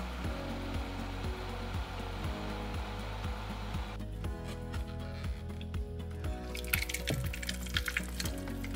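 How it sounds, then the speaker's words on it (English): A blender grinds soaked rice and cassava in water into a smooth fufu paste. Its motor drones steadily and loudly for about four seconds and then stops, followed by quieter clattering and liquid sounds. "So I blend it to a very smooth paste."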